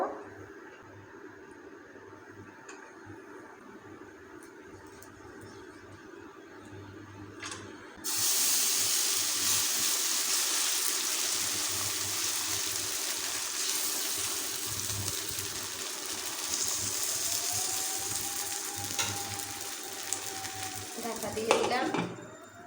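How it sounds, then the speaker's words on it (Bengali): Sago parathas fry in a pan. A quiet low background gives way to a loud, steady hissing sizzle that starts suddenly and carries on, with a few faint utensil clinks near the end. "তো বন্ধুরা সবগুলো পরোটা একইভাবে ভেজে নেব"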